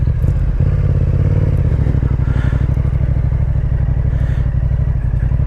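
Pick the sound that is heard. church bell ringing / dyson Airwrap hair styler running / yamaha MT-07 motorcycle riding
yamaha MT-07 motorcycle riding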